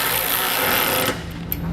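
A power tool runs steadily while tightening large nuts onto bolts during installation of a Demco tabless base plate kit on a 2014 Honda CR-V, a close whirring buzz that stops after about a second, followed by brief clicks.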